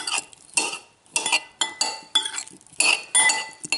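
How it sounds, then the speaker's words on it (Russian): Beet salad with pickled cucumbers being mixed in a bowl: a series of crisp, close clinks and wet scraping strokes of a utensil against the bowl, in uneven bursts about every half second, no talk. "Все перемешиваем."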